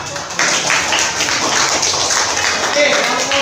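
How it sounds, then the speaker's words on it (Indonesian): Students in a classroom clap for a group that has just presented, with a steady patter of hand claps beginning quickly and sustained at close range while background talk carries on underneath. "terima kasih, tepuk tangannya"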